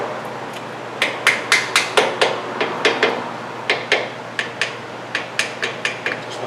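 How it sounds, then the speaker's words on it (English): A hammer taps a rear brake caliper slide pin into place on a 2008 Mercury Grand Marquis, with about twenty light, sharp metallic taps in a steady rhythm, close by, over a faint low hum. "And just tap it in."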